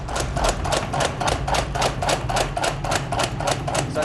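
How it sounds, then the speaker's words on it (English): Modern hydraulic forging hammer pounding metal in a fast, steady run of about four blows a second, loud and close with a hard metallic clatter and no talk. "Modern hydraulic hammers land 240 blows a minute."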